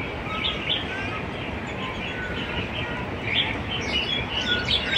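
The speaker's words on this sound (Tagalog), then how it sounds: "Ang ingay ng mga ibon. Ang daming ibon dito" Many birds chirp and tweet beside a large river, scattered high calls over a steady wash of flowing water, moderately loud and continuous with no speech.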